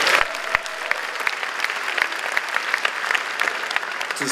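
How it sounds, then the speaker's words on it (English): Graduation audience at a 2019 high school commencement applauding, a sustained dense crowd clapping with scattered louder individual claps and a few whoops, steady and moderately loud throughout. "give a round of applause to your Board of Education"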